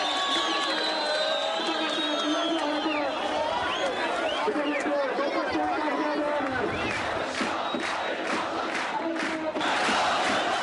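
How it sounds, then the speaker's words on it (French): A large Syrian street crowd cheers, shouts and boos as dictator portraits burn, a dense continuous roar of many voices with whoops rising throughout. "Sous les cris de joie et les huées de la foule"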